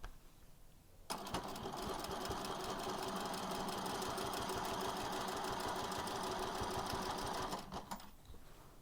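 A sewing machine quilting a fabric border starts abruptly, hums and chatters at a fast, steady needle rhythm for about six seconds, then stops, close and fairly loud with no speech.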